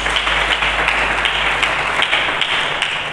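Steady, dense applause from a church congregation for Jesus Christ during a sermon, a continuous wash of many hands clapping at even loudness with a low hum beneath and no voices.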